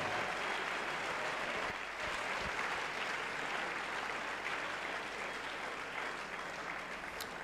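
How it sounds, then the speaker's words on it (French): A church congregation at an evangelistic deliverance crusade in Douala claps for the Lord, a dense, steady wall of applause sustained throughout at close range with no voices on top. "Let us clap again to the Lord."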